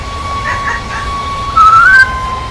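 Whistle of the Tornado steam locomotive in the Train Sim World game, a brief rising shriek over a faint steady tone and low rumble, loud and close.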